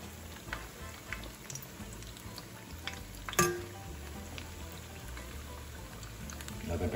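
Seasoned corn fritters fry in hot oil at medium-high heat, giving a steady, faint crackling sizzle with scattered pops and one sharper clatter midway.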